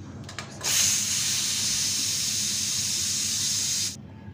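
A pressure cooker lets out a loud, steady hiss of steam for about three seconds after a few short clicks, then cuts off abruptly.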